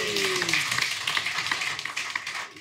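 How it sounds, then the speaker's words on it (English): Pub crowd at a live rugby podcast recording in The Globe cheering and clapping, a dense steady roar of applause with scattered claps and whoops throughout, loud and close, no clear talk. "We'll have a cheer, please, from everybody in the globe this evening."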